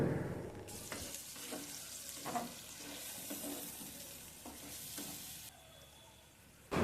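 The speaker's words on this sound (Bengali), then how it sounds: "এবার এই মশলাগুলো ভালো করে কষিয়ে নেব" Ginger, garlic and onion paste with spices frying in a pan for Bangladeshi-style chicken roast gives a steady, soft sizzle with occasional stirring scrapes and no talk.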